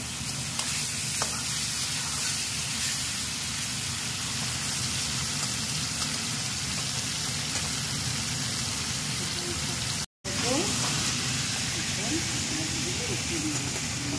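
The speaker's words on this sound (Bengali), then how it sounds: "চিংড়ি মাছ অল্পই ফ্রাই করবো" Prawns fry in hot oil over full flame, giving a continuous close crackling sizzle with occasional stirring, interrupted by one brief dropout, while voices can be heard faintly.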